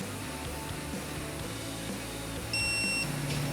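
A digital torque wrench gives a short, clear electronic beep on reaching its set torque, sounding once near the end over a steady background hum.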